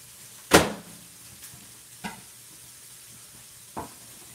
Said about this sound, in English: Just going to add these peppers and onions here to the pork mixture here in just a moment.